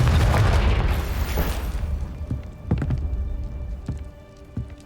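A Confringo fire-spell explosion in the game Hogwarts Legacy booms loudly with a deep, rumbling burst that fades over about two seconds, followed by scattered softer thuds and pops.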